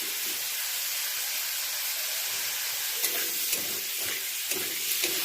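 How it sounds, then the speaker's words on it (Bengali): Mango pickle with whole chillies frying in a pan, giving a continuous close hiss and sizzle with a few soft stirring scrapes toward the end. "তো এটাকে একটু সময় ধরে ভেজে নেব।"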